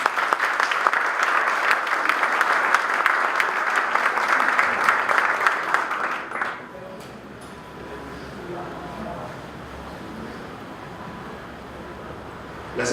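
Loud, dense applause from an audience at an educational institution's blessing and reopening ceremony, filling the first six seconds before cutting off into quieter room noise.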